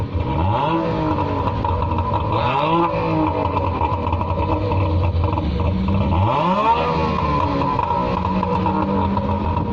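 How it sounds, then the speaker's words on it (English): Wartburg two-stroke car exhaust revving hard and continuously, with rising and falling pitch sweeps as the throttle is blipped, loud and close throughout. "Right then, exhaust."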